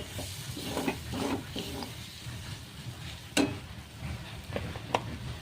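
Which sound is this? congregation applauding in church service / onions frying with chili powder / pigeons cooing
onions frying with chili powder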